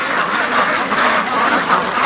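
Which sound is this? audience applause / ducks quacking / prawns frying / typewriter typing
ducks quacking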